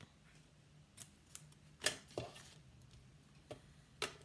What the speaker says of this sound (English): And trim it.